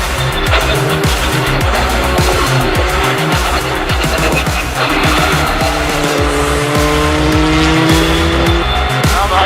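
A rally car at speed on a closed stage of the Rallye Club 8 Cevennes, the engine loud and close, revs climbing and dropping through gear changes with tire noise, steady and unbroken.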